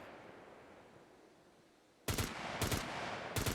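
Three loud, close gunshots from a hunter in the SCUM video game, a quick pair then one more, bursting out after about two seconds of quiet background ambience.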